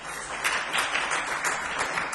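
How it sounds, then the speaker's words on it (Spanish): Brief, dense applause from a crowd at a film festival meeting in Gijón, steady and fairly close for about two seconds, with no voices over it. "os pido un aplauso para ella"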